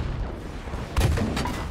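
An artillery tank firing in the Battlefield V video game, heard as one heavy boom with a rumbling tail and a few fainter follow-up cracks over steady battlefield noise.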